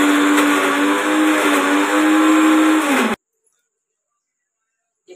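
Blender grinding green chillies, ginger and garlic, a loud steady whirring roar for about three seconds that cuts off abruptly into silence.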